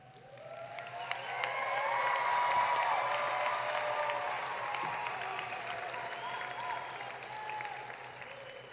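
A graduation crowd applauds its students, steady clapping that swells in the first seconds and holds for several seconds before tapering slightly, heard from a distance in a large hall.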